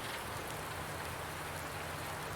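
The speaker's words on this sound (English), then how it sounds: "Got a little rain this morning." Rain falls steadily in Farming Simulator 19, a dense, even hiss of drops filling the scene without pause and with no talk.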